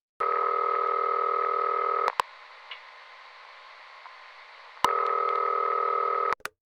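A telephone ringback tone sounds in two long steady buzzing bursts separated by a pause, loud and alone with a few clicks between.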